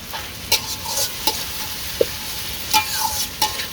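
Ginger sizzles in hot oil as a spatula stirs it, a continuous frying hiss punctuated by several sharp metal scrapes and taps, close up with no speech.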